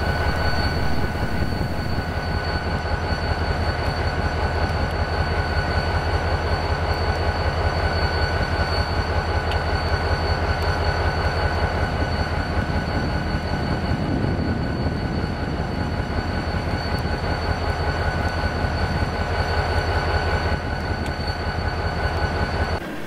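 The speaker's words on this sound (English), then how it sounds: "At the head of these hoppers were SD40-2s number 3057 and 3055." A freight train of hoppers led by SD40-2 diesel locomotives rolls past near a rail yard, a steady loud rumble of wheels and cars with a constant engine drone and faint squeals across the whole span.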